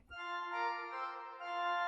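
On a Rieger organ sample set, the super octave stop plays a high, clear sustained tone with thin, bright harmonics, held steadily for under two seconds after a tiny onset noise.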